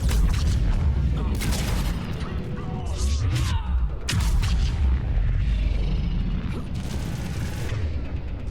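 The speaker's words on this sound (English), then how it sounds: "Yeah, I can do the biotic explosion on him." Biotic explosion in the video game Mass Effect 3, heard as loud, dense booming blasts and crashes layered with game effects and a voice, continuous through the whole stretch.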